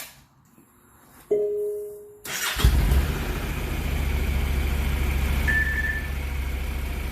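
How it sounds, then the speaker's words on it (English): A Honda CTX700 motorcycle with its factory exhaust cranks and starts, then settles into a steady, fairly quiet idle with a low, even rumble. "So now I'm going to turn the machine on so you can hear what it sounds like with the factory exhaust."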